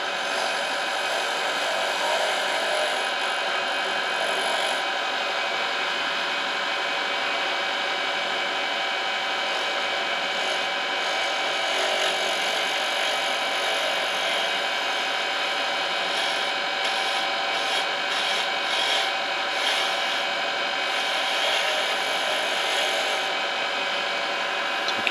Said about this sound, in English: But because I'm scraping, I can go in either direction.